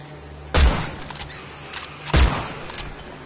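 Two loud, close gunshot blasts from a firearm in the horror video game Evil Dead: The Game, spaced about a second and a half apart, each with a short booming tail over a steady background hum.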